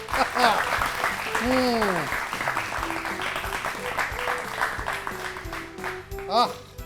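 Applause for a correct answer on a Hindi children's fun-learning quiz show, moderate and mixed with voices and tonal sound effects throughout.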